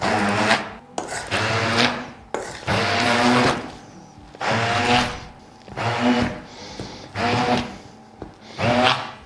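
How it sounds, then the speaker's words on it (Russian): An electric blender purees coarse-grained cottage cheese in repeated bursts of about a second each, a whirring grind with short pauses between pulses, close and fairly loud, with no talking. "я воспользуюсь для измельчения зернистости блендером"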